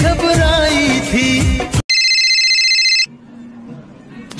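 A telephone rings briefly with a steady electronic tone after loud music cuts off, then quiet background follows.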